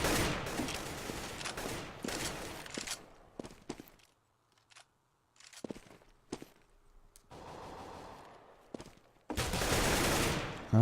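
Pistol fire in a competitive shooter video game match, bursts of sharp gunshots and rapid firing separated by quieter stretches with footsteps and brief clicks, loud and close-sounding.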